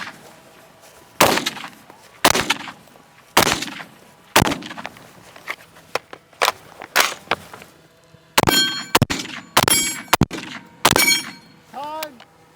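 Repeated sharp metallic clangs and pings of shots striking steel targets during a cowboy-style shooting session, about a dozen hits spaced irregularly, loud and close, with a faint voice in the background.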